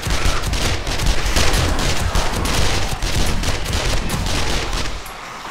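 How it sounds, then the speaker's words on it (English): Shotguns firing in the video game 7 Days to Die, a dense, loud, continuous barrage of overlapping blasts during a horde night that eases off at the very end. "The shotguns are just going to town"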